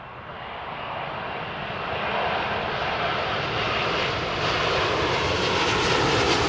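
Airliner engines roar steadily as the plane comes in to land on runway 27 left at London Heathrow, a broad, loud continuous drone swelling slightly over the seconds with no voices.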